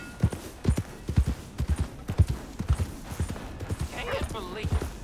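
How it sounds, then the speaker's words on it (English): Rhythmic clip-clop of horse hooves at a steady walking pace in Red Dead Redemption 2, with a brief voice and some electronic game-like tones near the end. "Horse tack. Whoa, stop."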